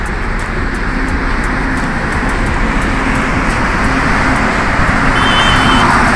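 Steady traffic on a main road beside a CNG station on the Nagpur bypass, a continuous broadband road roar of passing vehicles with a faint high whine near the end and no talk.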